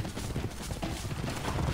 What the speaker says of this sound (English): So I have to steer the horse.